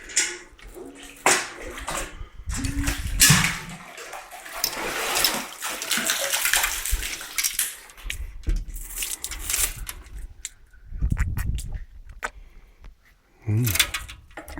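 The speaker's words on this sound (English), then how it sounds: "This is the clean mountain water." Clean mountain water runs and splashes steadily nearby, with a fuller rushing surge partway through and a few brief clinks over the flow.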